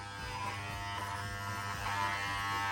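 Electric hair clippers in a home barber setup run continuously with a steady close buzz, fairly quiet, with no talking.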